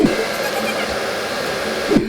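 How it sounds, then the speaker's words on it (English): A hair blow dryer runs steadily and loud as it dries newborn baby goats in cold weather, a continuous whirring roar with a slight bump near the end. "we got them all dry with a blow dryer because it was getting pretty cold"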